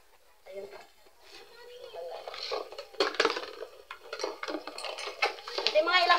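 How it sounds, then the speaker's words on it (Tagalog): Plates, pots and cutlery clatter and clink as dishes are washed, with close, irregular knocks and scrapes growing busier. Two people talk over the sounds. "maglilinis na kami ng plato ni Marisa"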